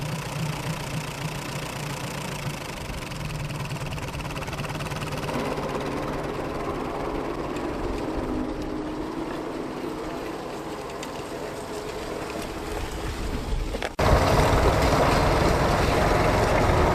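Steady engine drone of a tractor ploughing furrows in a match-ploughing setting, a continuous mid-low rumble throughout, shifting to a louder, harsher tone near the end.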